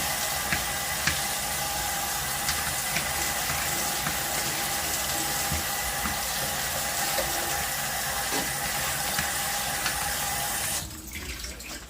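Tap water runs hard and continuously close by over vegetables in a strainer for rinsing, with faint clatter from the produce, then the flow stops near the end.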